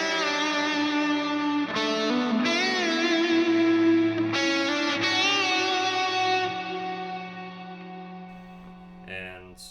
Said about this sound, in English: I have a reverb on, which is a very spacious reverb.